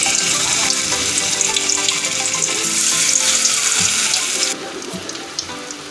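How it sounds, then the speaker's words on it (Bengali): Bora fritters sizzle steadily in hot oil, a dense, loud crackling hiss throughout that drops slightly in level near the end, with no talk. "বড়া আমার ভাজা হচ্ছে।"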